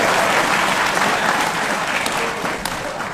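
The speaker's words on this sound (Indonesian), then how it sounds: "Tepuk tangan untuk Asep." Steady, loud audience applause fills the room throughout, a dense wash of clapping at a religious talk that fades slightly toward the end.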